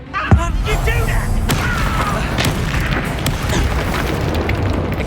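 A fiery Confringo blast spell goes off in Hogwarts Legacy with a sharp, loud boom near the start, followed by a sustained rumbling roar and crackling battle effects throughout.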